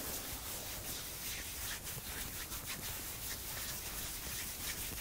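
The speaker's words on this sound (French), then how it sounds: "le genou droit, on frotte." Palms rubbing over the right knee during a morning yoga warm-up, a soft, steady scratchy friction sound, faint and close, with no talk.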